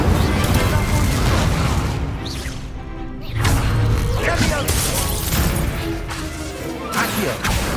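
Spell effects in a Hogwarts Legacy duel fire off as loud magical whooshes, crackles and crashing impacts, dense and close, with a brief lull midway. Casting voices call out over them.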